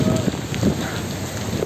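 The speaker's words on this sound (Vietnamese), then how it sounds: "Tắm mưa." Heavy rain pours during a storm at sea off Phu Quoc, a steady broadband wash with patters and gusts, close and continuous, with brief voice-like sounds mixed in.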